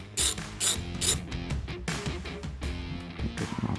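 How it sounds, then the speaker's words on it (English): A 10 mm socket ratchet loosens the nut on a ground stud of a Chevy Colorado ZR2, giving a run of close, fast mechanical clicks in uneven bursts, with no talking. "take a 10 millimeter socket and loosen up this ground stud here and remove the nut"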